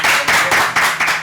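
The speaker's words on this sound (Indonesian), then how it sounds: "Tepuk tangan dong." A short run of about five loud, evenly spaced claps from hands close by, each a crisp burst in a quick rhythm.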